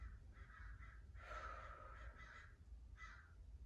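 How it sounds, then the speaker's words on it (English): Crows caw outdoors in a few separate bursts, a pair of calls followed by a longer cluster and one more later, moderately distant over a low steady background rumble with no talking. "We got crows outside."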